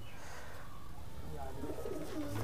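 Pigeons coo softly and continuously in a Madrasi highflyer pigeon loft, low throaty calls overlapping against a steady background hum.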